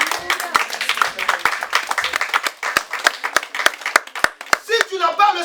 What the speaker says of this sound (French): Acclame Jésus-Christ pour ta vie